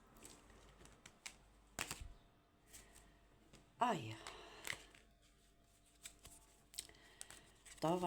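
A deck of cards is shuffled close up in a quiet room. Crisp riffling bursts and soft clicks come in irregular clusters, with a voice heard briefly between them.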